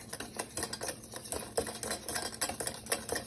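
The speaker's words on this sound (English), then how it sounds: "So we're making scrambled, so we'll scramble them using a whisk" Eggs being whisked for scrambled eggs for a breakfast sandwich, a fast, even tapping rattle of the whisk against the bowl, close and moderately loud, continuing throughout with no talking.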